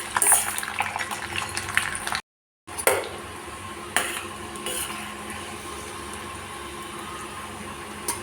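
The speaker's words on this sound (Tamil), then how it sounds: "இப்போ பூண்டு சேர்த்துக்கலாம். கொஞ்சம் சிவக்கு வதக்கி எடுத்துக்கலாம்." Garlic sautéed in a pan on a home stove gives a soft continuous sizzle, with occasional scrapes and clinks of a stirring spoon against the pan and one brief dropout in the sound, close and fairly quiet.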